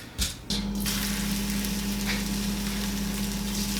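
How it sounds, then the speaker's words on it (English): Pieces of cacao pod fry in hot oil with a steady, close hiss and crackle after a brief clatter as they go in, alongside a low constant hum. "It's frying."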